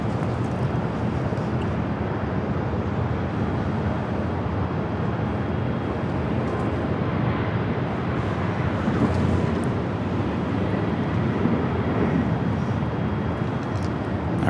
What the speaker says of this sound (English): This flight heading to Chicago Midway, 737-800, Southwest Airlines flight 1966.